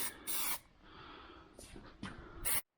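Aerosol spray paint can hissing onto a Ford Fusion during a rattle-can repaint, in three short close bursts separated by quieter gaps, with a faint hiss in between.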